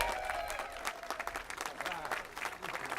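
An audience at a library grand opening breaks into applause, a steady patter of many hands close by that ripples on for the whole moment, with some voices mixed in.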